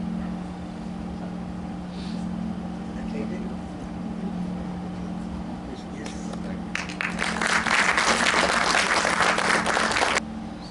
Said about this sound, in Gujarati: આપણે સૌ એમને તાળીઓથી વધાવીશું પ્લીઝ.